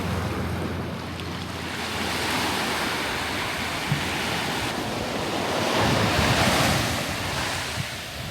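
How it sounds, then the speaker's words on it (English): Steady wind roars along an island coast near El Nido, with surf breaking continuously beneath it, a broad even wash that swells slightly louder toward the end, no voices. "the wind has actually calmed down quite a lot since this morning"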